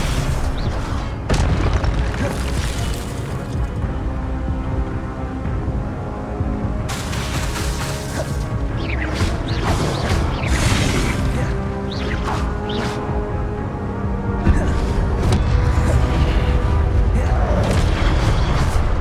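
Expelliarmus spell effect in the video game Hogwarts Legacy, heavy booming bursts and crackling magical impacts over continuous loud game combat noise and music, with no clear gaps.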